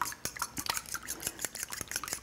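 A fork whisks a raw egg in a bowl for a quinoa burger mix, giving quick, close clinking taps against the dish in an uneven rhythm, with no voices.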